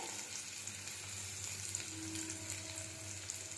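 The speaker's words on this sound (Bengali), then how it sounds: "কড়াতে গ্যাসের উপর একটা কড়া বসিয়েছি তার মধ্যে দিয়েছি তেল দিয়ে দিচ্ছি পেঁয়াজ কুচানো" Chopped onion sizzling in oil in a kadai over a gas stove, a soft, steady frying hiss with a low hum beneath and occasional faint ticks.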